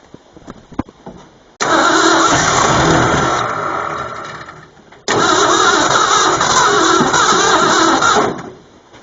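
A 2-barrel Ford F150 truck engine cranks and fires, then a long loud rev, dying down before a second start and another sustained roar, close and without talk.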